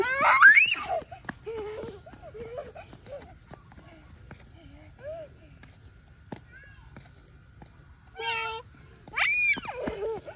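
A voice imitates a cat, giving a string of short, high meows spread through the stretch, mixed with giggles and playful vocal noises, close to the microphone.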